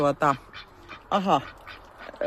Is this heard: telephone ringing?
no